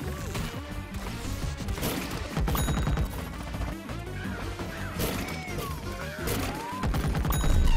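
Gunfire in the video game Plants vs. Zombies: Garden Warfare 2, rapid bursts of shots mixed with crashes and impacts over game music, building steadily louder toward the end.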